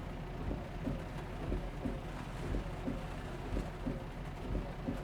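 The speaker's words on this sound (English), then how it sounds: "I like how there's like a variation in the frequency of the rain's intensity." Steady rain on a truck during a drive in American Truck Simulator with a Volvo, a dense continuous hiss over a low rumble with gentle swells in intensity and no talk.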